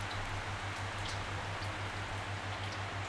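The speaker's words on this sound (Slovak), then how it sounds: "Pomôže nám k tomu aj zvuk dažďa, ktorý som nahral počas nocovania v lesnom buddhistickom chráme" Rain falls at night at a forest Buddhist temple, a steady soft hiss of drops with scattered light patters on a surface, close and continuous under a low rhythmic pulsing hum.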